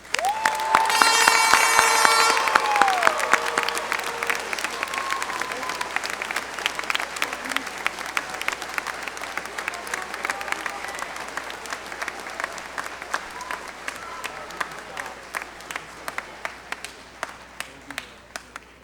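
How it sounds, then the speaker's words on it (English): High school graduation audience at Centralia High School applauding the seniors of 2024, loud sustained clapping and cheering with whistles at first, thinning into scattered individual claps toward the end. "Let's have one more round of applause for our seniors."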